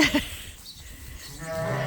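Sheep on a farm being let out of their pen bleat briefly near the start, then a short, fainter call follows amid rustling movement.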